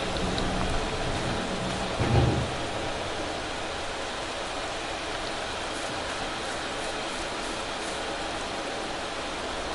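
Steady in-game rain from Farming Simulator 22 hisses on and on, with a brief low rumble of thunder near the start; no one talks.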